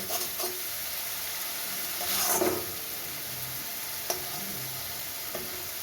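Masala spices being stir-fried in a pan for a green banana kofta curry, a steady soft sizzle with a louder hissing burst midway and faint scraping stirs.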